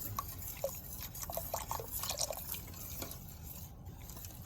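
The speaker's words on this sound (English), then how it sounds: "start whisking in the milk" Milk being whisked into a thick potato soup in a pot, giving a faint, continuous wet sloshing and light dripping texture close by, with no talk.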